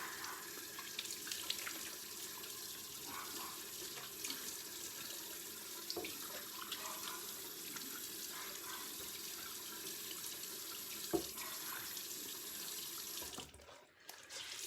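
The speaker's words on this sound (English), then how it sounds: "I'm gonna take water and I'm gonna splash it on my face and just make sure I get it all off" Water runs steadily from a sink tap while someone splashes it on their face, a constant soft rushing with small splashes, ending abruptly as the flow stops near the end.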